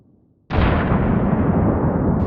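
A small firework goes off in a slow-motion injury test: an abrupt, loud burst after a half-second of near silence, then a dense, sustained roaring hiss that continues to the end.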